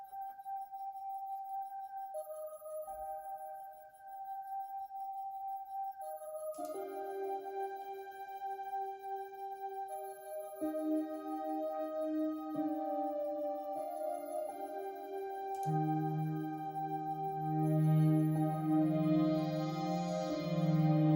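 Synthesizer tones play alone, starting with high glassy notes and building layer by layer into a deeper, bassy sustained sound with a shimmering top.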